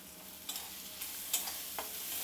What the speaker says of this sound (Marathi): आता ह्याला काय करणार एक मिनिटभर परतून घेणार आहे